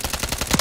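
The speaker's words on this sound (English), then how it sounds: "They're shooting at me" Enemy gunfire in a first-person shooter video game, a quick run of rhythmic shots rattling close and loud across the whole moment, with one heavier burst near the end.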